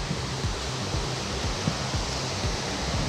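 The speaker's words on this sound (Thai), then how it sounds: "โอ้โหน้ำตกตรงนี้ครับ" A waterfall in southern Laos flowing with a steady, even rushing roar, continuous and moderately loud, with faint low splashing pulses underneath and no speech.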